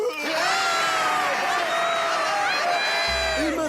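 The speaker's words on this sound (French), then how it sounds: "Je veux un tonnerre d'applaudissements pour Langtos." Cartoon crowd cheering and whooping loudly and continuously for several seconds, with excited shouts rising over a dense roar, ending abruptly near the end.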